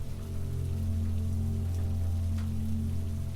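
Steady rain falls on a surface in a quiet indoor setting on a rainy island, a constant soft patter with a low, even hum beneath it and no voices.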